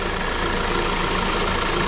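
A warmed-up car engine with belts driving the alternator and AC compressor, idling close by as a steady, even mechanical hum and whir for the whole short stretch, with no voices.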